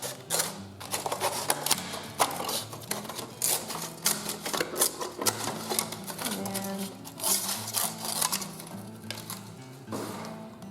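A disposable to-go plate is cut for a radial star art lesson, with rapid crisp snips and crackles close to the listener over a steady tonal background.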